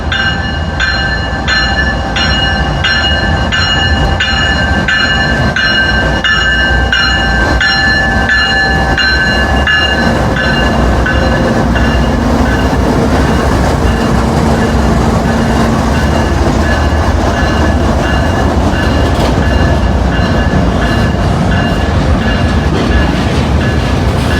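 Freight train with auto racks rolling down the middle of Main Street in LaGrange: a loud, steady rumble of passing cars with rhythmic clickety-clack and high steel wheel squeal, continuous throughout without talk.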